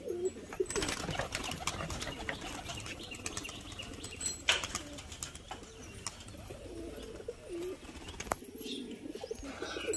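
Pigeons in a loft clatter their wings in repeated bursts of flapping, with faint cooing and chirps around them and outdoor noise underneath.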